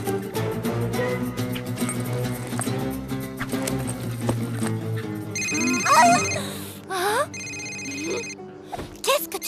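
A telephone bell rings in repeated bursts through a busy scene, with horse-like clip-clop and other sounds around it, while people talk over much of it.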